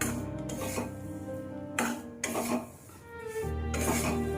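Besan laddu mixture stirred in a pan with the gas flame off, a spoon rasping and scraping against the metal in several long, close strokes with brief pauses between them, and no speech.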